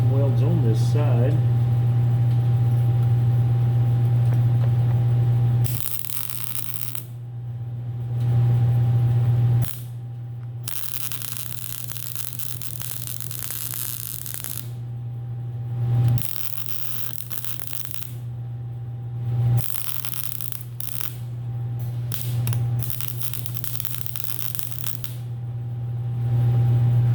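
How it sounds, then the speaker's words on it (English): Arc welding on a piece of physical fitness equipment being repaired, with painted metal burning off, producing bursts of loud broadband crackle and hiss separated by short pauses over a steady low electrical hum. "I'm just going to get some welds on this side."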